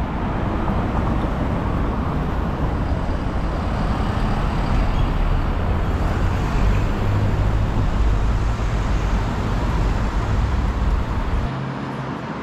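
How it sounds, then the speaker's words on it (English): Continuous city road traffic near Sydney's Darling Harbour, a dense, loud rumbling roar of passing vehicles that holds steady with no pauses and no talking. "Traffic."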